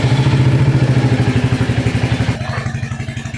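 A Hunter motorcycle cold start on an early morning: a loud, close engine thumping in a fast, even pulse, the beat easing and softening slightly partway through.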